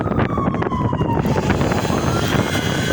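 A car paint polisher spins up past 1,000 RPM on a car's paint, its whine climbing in pitch as the motor speeds up, loud and close over steady buzzing noise.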